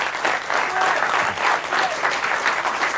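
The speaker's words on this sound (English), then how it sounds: "I think we should have some applause for that" A crowd claps for paintings on display, steady, full applause holding at a constant level throughout, with faint voices mixed in underneath.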